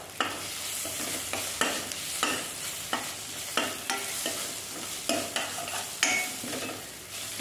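Roasted eggplant fries in oil with red chili powder, giving a steady close sizzle with rhythmic scraping stirs recurring roughly every half second.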